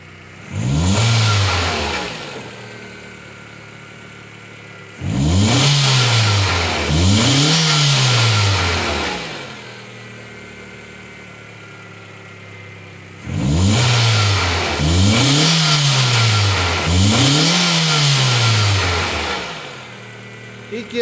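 Car engine fitted with a Magneti Marelli MAP/IAT sensor revved in three bursts, each rising and falling twice in pitch before settling back to a steady idle, loud and close.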